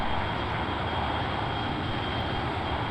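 An F-15 aircraft engine in flight gives a steady, loud, unbroken roar that fills the whole moment without change, heard from inside or close to the airplane with no voices.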